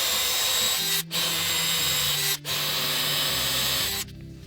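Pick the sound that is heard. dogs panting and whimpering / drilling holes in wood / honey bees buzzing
drilling holes in wood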